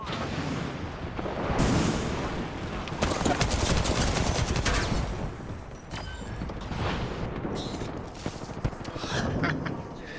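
In Apex Legends, a cluster bomb ability fires a chaotic string of loud bursts and explosions, with crackling volleys, heavy thumps and scattered sharp blasts across ten seconds of continuous combat noise.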